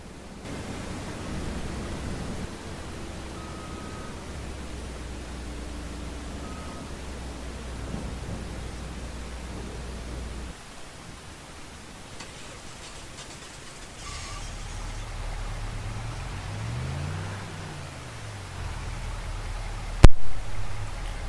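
Rain and thunder in the video game Farming Simulator 25: a steady hiss of rainfall runs throughout, with low rolling thunder rumbles and a sharp crack near the end, with no speech.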